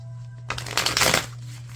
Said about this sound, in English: I love shuffling the Unfolding Path Tarot.